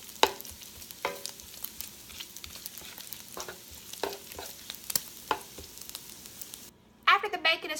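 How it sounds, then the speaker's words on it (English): Small pieces of fatty bacon (five slices' worth) frying in a pan to render their fat give a soft steady sizzle with scattered crackles and stirring scrapes, ending in a burst of louder spatter. "I'm starting off with 5 slices of real fatty bacon that I just cut into small pieces. I'm just trying to render down as much fat as possible."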